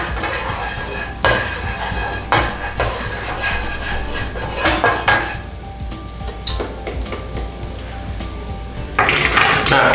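Margarine heating in a pan for mushroom martabak gives a soft sizzle under intermittent clanks and scrapes of a utensil against the pan, with sharper knocks now and then.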